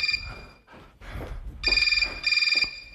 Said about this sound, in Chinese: 我亲爱的秘密给我打电话